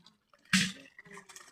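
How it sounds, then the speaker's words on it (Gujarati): Water from a motor pump gushes into a vessel, starting with a sudden splashy burst and settling into a softer, uneven trickle and spatter at close range. "જો આ પાણી ભરે છે, તારા મોટર શરૂ કર્યું ને"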